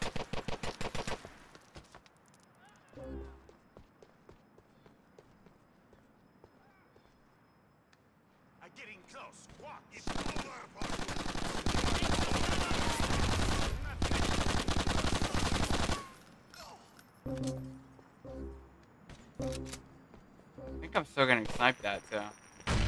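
Light machine gun fire in Grand Theft Auto IV's The Ballad of Gay Tony: scattered shots, then a long, loud, unbroken burst of rapid gunfire, followed by more short volleys.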